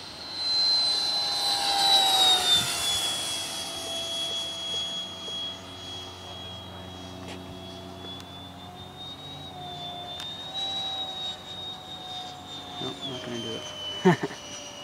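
A radio-controlled F9F-2 Panther scale model jet flies overhead with a steady turbine whine that rises, falls and drifts as it passes, heard from the ground under occasional voices.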